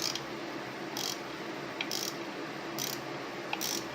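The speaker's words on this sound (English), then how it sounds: "Now just tighten them back up the same order you did when you started" A ratchet wrench fitted with a Torx 27 bit tightens primary cover bolts on a Harley-Davidson Heritage Classic motorcycle, giving four evenly spaced bursts of close clicking over a quiet background.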